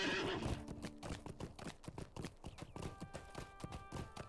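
A horse in the video game Lord of the Rings Online whinnies briefly at the start, then hooves clip-clop in a quick, steady rhythm, with a faint sustained tone in the background.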